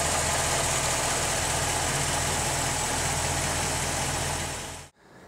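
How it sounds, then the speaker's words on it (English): A 1964 Chevrolet Corvette Stingray convertible with a 327 V8 and hydraulic lifters idles smoothly and evenly nearby, a constant quiet engine hum that cuts off abruptly near the end. "Nice hydraulic lifters, you know. Nice smooth running motor for sure."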